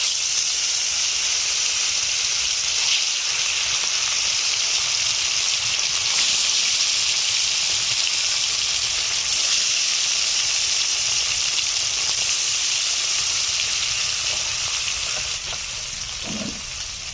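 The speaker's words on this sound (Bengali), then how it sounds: "হলুদ লবণ মেখে রাখা রুই মাছগুলোকে ভেজে নিচ্ছি" Rohu fish pieces rubbed with turmeric and salt fry in hot oil, giving a steady, close, loud sizzling hiss that runs unbroken throughout with no voices.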